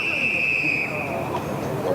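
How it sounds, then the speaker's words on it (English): An umpire's whistle at an Australian rules football match, Sandringham v Oakleigh, gives a sustained, piercing blast of about a second, then trails off under crowd noise and commentary. "Whistle."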